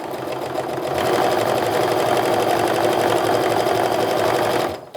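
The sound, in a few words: sewing machine sewing quilt block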